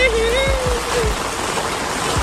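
Heavy monsoon floodwater rushing along a flooded hill road, a steady broadband wash of flowing water close by, with a few low thumps and a brief whistle-like tone early on.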